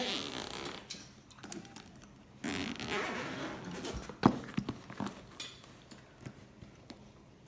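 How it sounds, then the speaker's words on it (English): A carry-on travel bag is zipped open by hand, with several short ratcheting zipper pulls and creaks of fabric, close and clear in a quiet room, with rustling handling noises between strokes. "Okay, so we're going to zip open the bag."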